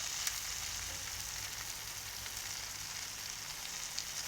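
Shrimp for blackened shrimp and grits cook on a flat griddle, giving a faint, even, continuous sizzle with a light crackle throughout. There is no talking.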